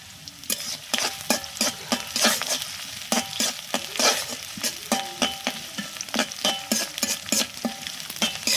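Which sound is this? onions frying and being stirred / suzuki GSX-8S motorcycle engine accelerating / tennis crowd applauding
onions frying and being stirred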